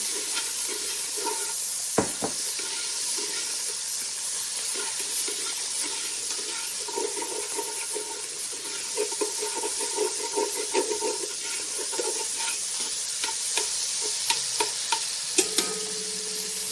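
Good-quality bacon sizzles steadily in a pot with a dense, crackling hiss, broken by scattered louder pops and occasional scraping stirs; no one speaks.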